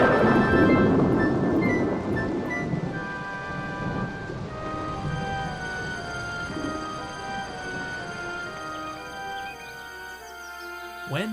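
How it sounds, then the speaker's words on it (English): A fierce night thunderstorm over an island: a loud burst of rumbling thunder and heavy rain that gradually eases, with sustained tonal notes running underneath. "That night, a fierce storm raged across the island."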